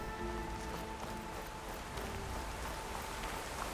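Rain in Horizon Forbidden West falls as a steady, dense hiss of drops spattering on surfaces, constant and unbroken with no talk.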